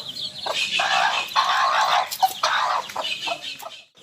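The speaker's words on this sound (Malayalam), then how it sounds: "നാടൻ പുള്ളിക്കോഴികൾ 30-ലേറെയുണ്ട് വീട്ടിൽ" Native spotted chickens in a backyard garden at Kilimanoor cluck and chatter in close, repeated bursts with short pauses between them, loud and near, with no human voices.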